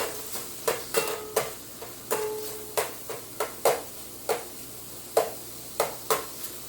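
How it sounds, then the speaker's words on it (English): Broth vegetables sizzle quietly in a pot while a utensil stirs, producing a steady series of sharp scraping knocks about once a second. "This is starting to sizzle."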